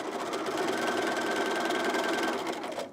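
A sewing machine stitches knit fabric for a top, a steady, close, continuous mechanical whir that runs unbroken for the whole stretch.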